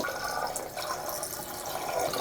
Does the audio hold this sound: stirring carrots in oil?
no